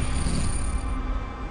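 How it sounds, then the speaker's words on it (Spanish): Stones rolling on the seabed along a shoreline where orcas hunt, a dense rumbling, grinding clatter with low churning underneath, continuous and fairly loud throughout the short stretch. "Oye el ruido de las piedras de fondo"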